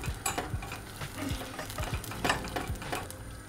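Tomato paste sautéing in a pan while making a baked köfte dish, giving a soft steady sizzle broken by repeated stirring scrapes and light utensil taps, close and moderately quiet with no talk.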